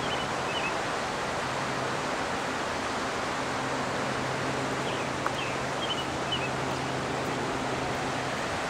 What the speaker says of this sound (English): Now look at the swiftness of that water.